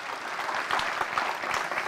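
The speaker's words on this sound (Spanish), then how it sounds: "Un aplauso fuerte al Señor." A church congregation claps in dense, sustained applause, a steady patter of many hands close by with no voices standing out.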